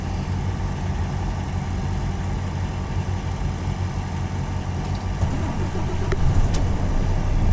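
A Volvo FH truck idles and then pulls away, its engine rumbling steadily and building slightly toward the end, with faint clicks and a soft release sound as the handbrake lets go.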